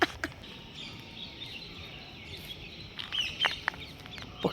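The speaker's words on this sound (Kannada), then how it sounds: "ಪಕ್ಷಿಗಳ ಸೌಂಡ್ ಕೇಳಿಸ್ಕೊ, ಏನು ಸಕ್ಕತ್ತಾಗೈತೆ." Birds call near an areca nut plantation, with sharp chirps and a few clucking fowl notes over a quiet outdoor background, brief and scattered, louder toward the end.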